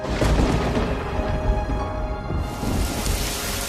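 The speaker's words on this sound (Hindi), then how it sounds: "अरे देखो, बारिश शुरू हो गई।" Steady rain pours down with a dense hiss of drops, continuous and fairly loud, with a low rumble underneath; no voices.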